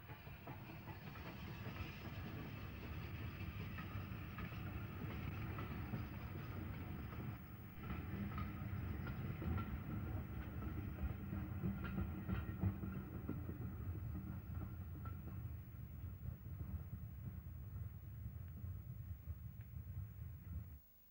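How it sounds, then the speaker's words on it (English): A North London tank steam locomotive at night, heard as a steady low rumble and rolling clatter of a train in motion, continuous and fairly quiet throughout with faint hiss and no voices. "There's something romantic about a steam train at night, even if it is only the North London tank."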